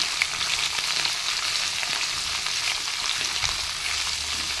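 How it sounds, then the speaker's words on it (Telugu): Chopped ivy gourd pieces frying in hot oil, a continuous bright crackling sizzle that holds steady and close, with no talking. "దొండకాయ ముక్కలు వేసి కొంచెం ఇదంతా ఆయిల్లో బాగా ఫ్రై అవ్వాలన్నమాట."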